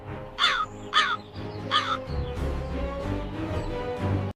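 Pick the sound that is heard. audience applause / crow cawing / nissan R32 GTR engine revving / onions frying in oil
crow cawing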